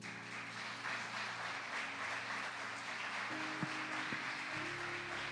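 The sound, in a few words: applause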